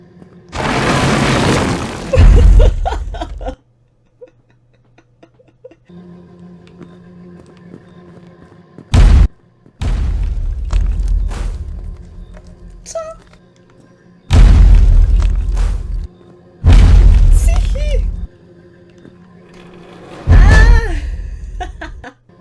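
Several loud booming video game explosions, including a building blowing up, burst out one after another at irregular intervals, with quieter rumbling and clatter in between.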